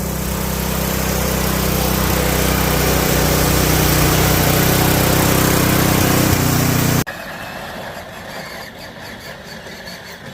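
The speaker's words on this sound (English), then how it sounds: "As you can see, John's got it at full throttle." Lawn tractor go-kart engine converted to propane roaring loud and steady at full throttle, then cutting abruptly to a quieter, rougher running note near the end.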